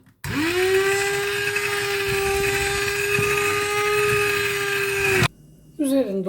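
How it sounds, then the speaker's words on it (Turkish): A hand blender whirs steadily at high speed for about five seconds, pureeing cooked lentils for lentil soup, then cuts off abruptly, followed by brief quieter sounds. "Mercimek pişti. Şimdi parçalayıcıdan geçiriyorum."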